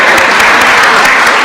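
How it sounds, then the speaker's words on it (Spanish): A congregation applauds a woman during a priest's talk, a short burst of loud, dense clapping that fills the moment without a pause. "Un aplauso para ella, muy bien."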